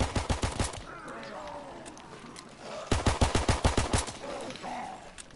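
Pistol gunfire in Call of Duty: WWII Zombies, with a rapid string of sharp close shots, a lull with faint game noise, then another fast burst of shots.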